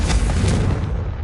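A Confringo fire spell blast in Hogwarts Legacy erupts as one loud, deep, close explosion with a broad roaring burst that fades quickly over about a second.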